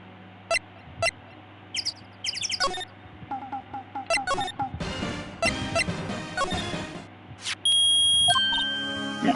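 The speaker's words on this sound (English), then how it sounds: "It's beeping, the metal detector's found something." Repeated electronic beeps and chirps of a metal detector in Phoenix Wright: Ace Attorney, in irregular bursts, building into a busier stretch and ending with a steady, loud high tone.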